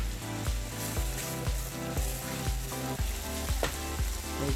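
Pork tonkatsu curry ingredients being sautéed in a pan, a constant loud sizzle with rhythmic scraping stir strokes about every half second, close and without talk.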